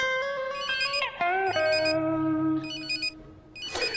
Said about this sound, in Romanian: mă sună cineva